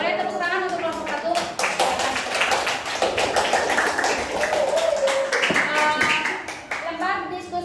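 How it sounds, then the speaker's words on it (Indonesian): Classroom audience claps for a student discussion group, a busy run of overlapping hand claps mixed with lively children's voices and chatter throughout, close and fairly loud. "Boleh tepuk tangan untuk kelompok 1."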